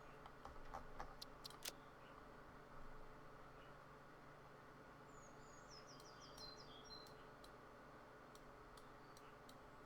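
Game birds in Satisfactory give faint high chirps, with a short run of twittering calls mid-clip, set over a steady low ambient hum and scattered clicks, with no one talking.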